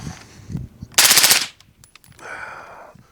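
A 300 Blackout rifle fitted with an FRT forced-reset trigger fires a loud, close, very fast burst of shots lasting about half a second, followed by quieter clatter and outdoor noise.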